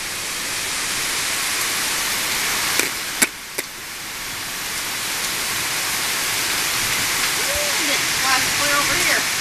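A heavy 5:30 PM storm sends rain pouring down in a dense, steady roar outdoors near a flooding garden and driveway, with a couple of sharp knocks and people talking faintly beneath it.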